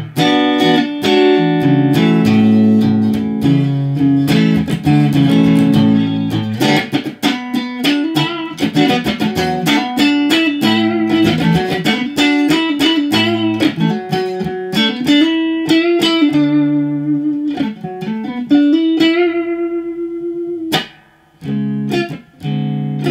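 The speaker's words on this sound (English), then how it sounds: "so here's the guitar. Anyway, this is what it sounds like clean." A Harley Benton electric guitar played clean through an amp, picking through a run of notes and chords, bright and dry with no distortion, playing steadily for about twenty seconds before a few final strums.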